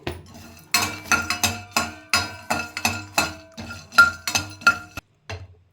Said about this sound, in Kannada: ಎಲ್ಲದು ಒಟ್ಟಿಗೆ ಮಿಕ್ಸ್ ಮಾಡ್ಕೊತಾ ಇದ್ದೀನಿ